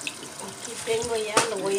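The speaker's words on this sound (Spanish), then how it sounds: "lo voy a enjuagar bien en agua caliente" Hot tap water runs into a sink while fish is rinsed for a seven-seas seafood soup, a steady close splashing wash under some voice-like tones.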